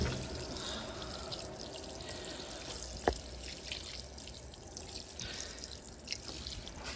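Fisher and Paykel WashSmart 7kg washing machine filling: a steady wash of running water with faint drips and one sharp click midway, continuous and even throughout, no speech.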